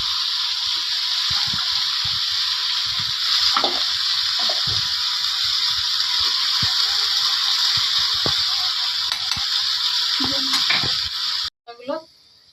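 Vegetables frying in hot oil with turmeric in a pan, a loud steady sizzle with occasional stirring scrapes, close up, cut off abruptly near the end.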